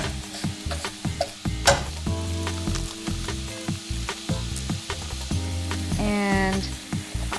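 Garlic sizzles in a pan with oil from sun-dried tomatoes while being stirred, a lively crackle punctuated by repeated knocks and scrapes of a utensil on the pan, close and fairly loud.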